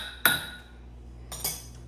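Metal whisk clinking against a bowl while blending a potato salad dressing of mayonnaise, sour cream, red wine vinegar and two mustards; two brief bright clinks, the second a short cluster, close and fairly quiet.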